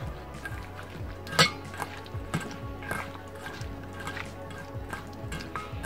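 A cucumber, tomato and mozzarella salad is tossed in a dish, with close utensil clinks, scrapes and soft wet squishes in an uneven rhythm, one louder knock standing out.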